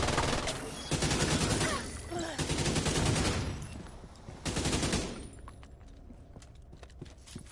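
Sustained bursts of rapid automatic gunfire rattle in the shooter game Division 2, several volleys in a row before fading to quieter game ambience.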